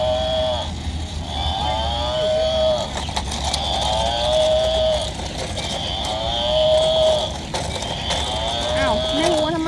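A cow moos again and again in long drawn calls with brief pauses between them, loud and close, while a low rumble runs beneath.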